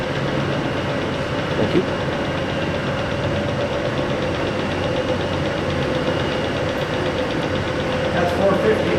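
A tree mill machine runs at speed with a steady low mechanical drone and faint knocking throughout, close and loud, while a person briefly speaks over it.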